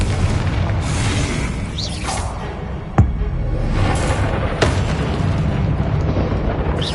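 A Confringo fire-blast spell explodes in a wizarding video game, with a sharp boom cracking out midway and a smaller pop later, over a constant loud roar of battle noise.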